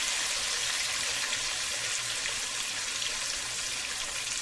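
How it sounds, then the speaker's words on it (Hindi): Medium-sized tomato frying with onions in a pan, a continuous close hissing sizzle with an even texture and no pauses or talk. "एक मीडियम साइज का टमाटर इसमें ऐड करेंगे और प्याज के साथ इसको भी हम फ्राई कर लेंगे"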